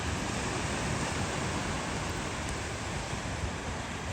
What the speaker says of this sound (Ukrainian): Подивіться, які великі хвилі